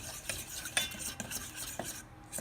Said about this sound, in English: We're going to whisk those out.